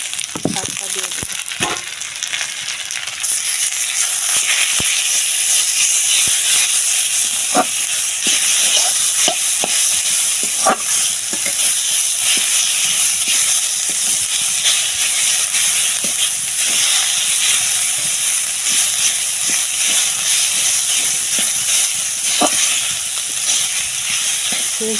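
Greens fry in a pan with browned spices, a loud, continuous hiss and sizzle with occasional stirring clicks, heard close up for the whole stretch.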